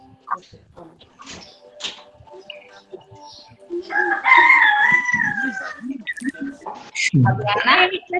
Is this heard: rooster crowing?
yes